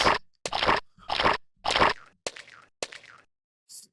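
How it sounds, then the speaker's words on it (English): A series of wet, crunchy paint splat sounds from the video game Desktop Destroyer in quick succession, loud and close, seven or so bursts with short gaps between them. "Those splat sounds."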